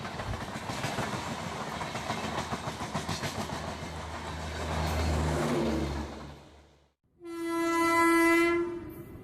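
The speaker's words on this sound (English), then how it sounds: "An empty racks is shunted by Wagner locomotive" A WAG 9 electric locomotive of Indian Railways shunts an empty rake, with steady rumbling wheels and clatter building louder before a brief dip, then a loud sustained horn blast up close.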